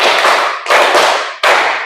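Students in a class clap hands in rhythm, three loud, close bursts of claps separated by short gaps.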